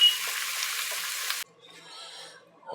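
Shallots and garlic sizzle loudly in a hot pan for about a second and a half, then the frying noise cuts off, leaving faint clinks and soft kitchen sounds.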